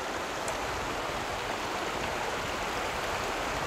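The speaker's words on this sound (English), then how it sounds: "we're right on the river here" A river flows steadily right beside a campsite, a constant close broadband rush of moving water with no pauses and no voices.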